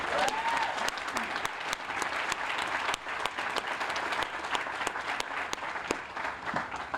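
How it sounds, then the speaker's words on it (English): A crowd at a college health center dedication breaks into a round of applause, dense clapping with a few sharper individual claps standing out, steady throughout with a brief dip near the three-second mark. "How about another round of applause for the Patels and Senator Cruz?"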